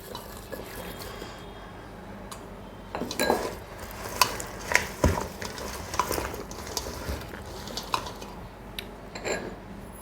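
Mango pickle mixture being stirred in a metal pot, with clinking spoon-on-pot knocks and wet mixing sounds, sparse at first then more frequent.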